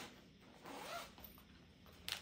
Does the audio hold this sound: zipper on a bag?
yes